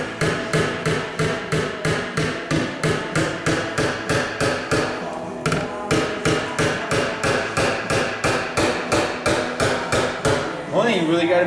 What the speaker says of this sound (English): One thing you really got to be careful with hammers when you're hammering on a panel is that this face isn't all jacked up.